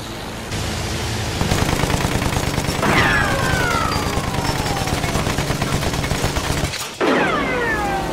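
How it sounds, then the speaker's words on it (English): Machine gun fire rattles continuously in Battlefield 1 naval combat, a dense rapid stream of shots with descending whistling tones over it, cutting out briefly near the end before resuming. "Machine gun!"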